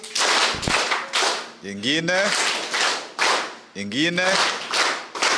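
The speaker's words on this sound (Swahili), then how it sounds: "Tupige makofi matatu ya kilo." An audience at a county treasury and planning consultation forum claps in unison, sharp loud claps landing in a quick rhythmic series, with a voice calling out between the bursts in a hall.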